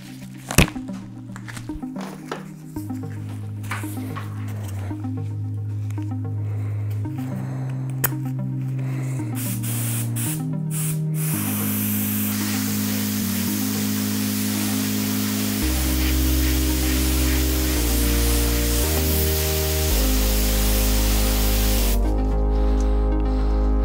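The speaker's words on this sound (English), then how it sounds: "Yes, I sprayed 4 layers" Aerosol spray paint hissing in thin coats onto tire decals, a loud, continuous close spray with brief pauses at first, then a long unbroken hiss over a low hum.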